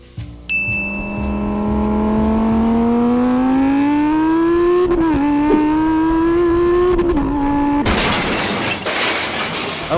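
A Lamborghini revs and accelerates with a rising engine whine through the gears, then a loud crash of shattering impact noise cuts in abruptly near the end.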